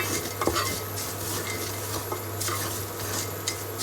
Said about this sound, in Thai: คั่วให้มันหอมค่ะทุกคนคั่วเครื่องให้หอม